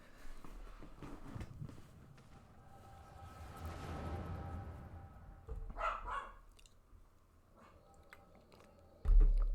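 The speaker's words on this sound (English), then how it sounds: "Excuse my dog." A dog heard indoors during gameplay commentary, with scattered muffled barks and some chewing or shuffling noises spread unevenly, ending in a louder sudden bark or thump.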